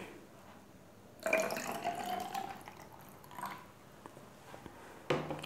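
Water is poured into oil for a simple home science experiment, giving a soft splashing trickle that starts abruptly, gurgles for a couple of seconds and fades, with a brief second splash near the end; faint and close.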